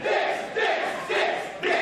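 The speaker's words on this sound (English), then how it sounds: "Very lively crowd here in Bridgewater, Massachusetts, as they have been all night." A lively wrestling crowd in Bridgewater, Massachusetts roars in rhythmic surging chants, three or four loud swelling bursts from a packed room.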